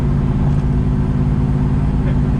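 A 1973 Camaro Z28 engine drones steadily and loudly in overdrive while driving, a constant low rumble with no talk over it.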